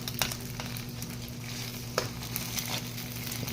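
Eggs frying in a pan give a steady, close sizzle with soft crackles and a few sharper pops, continuing throughout with no talking.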